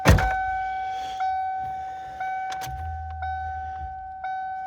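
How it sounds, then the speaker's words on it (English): Inside an old Lincoln, a steady electric hum from the fuel pump and air suspension compressor runs under repeated soft chimes, with a low rumble from the pump joining partway through; no talking. "I heard the fuel pump, and the air suspension is currently filling."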